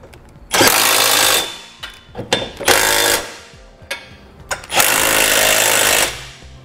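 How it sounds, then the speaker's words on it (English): An 11/16 socket tool tightens the hardware on a Draw-Tite trailer hitch receiver being installed on a 2019 Chevrolet. Loud, rattling bursts run for about a second each, with short clanks and clicks between them. "we'll come back with an 11/16 socket and tighten up all of our hardware"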